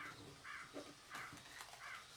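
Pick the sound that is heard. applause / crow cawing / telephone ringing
crow cawing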